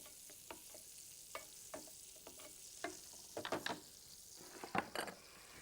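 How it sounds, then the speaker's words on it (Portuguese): Butter melting in a small crepe pan gives a faint, close sizzle broken by soft clicks and scrapes of utensils against the pan, with no one talking. "E derretemos a manteiga sempre, de preferência, no tachinho onde vamos confeccionar os crepes."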